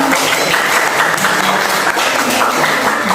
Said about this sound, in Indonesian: Tepuk tangan dulu dong untuk Kak Hendra Pratama